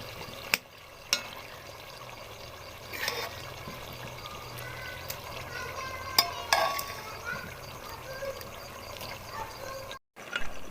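Boiled white lentils go into a pot of cooking chicken, bringing a soft steady sizzle and bubbling with occasional stirring scrapes and clanks of a spoon, fairly quiet and close.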